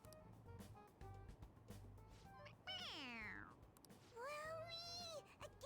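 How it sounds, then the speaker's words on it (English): Stuffed toy cat in Persona 5 Golden giving two drawn-out electronic meows when its head is pressed, each following the other after a short gap, heard over busy game music and sound effects. "It meows when you press on its head."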